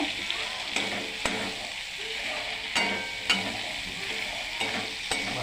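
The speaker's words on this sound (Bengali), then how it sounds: "ফুলকপি আগে থেকে ভাজা আলু আর ফুলকপিটা দিয়ে দিব দিয়ে রাখা তো ভালো করে কষিয়ে নিব" Cauliflower and pre-fried potatoes stir-fried in a spice masala in a village kitchen: a steady oil sizzle with repeated scrapes and clanks of the spatula against the pan, close and continuous, with no talk.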